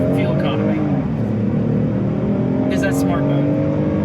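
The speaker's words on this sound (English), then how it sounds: "What do you think of the engine sound?" A 2025 Hyundai Palisade's engine hums in a steady, muffled drone heard from inside the cabin, with people talking over it.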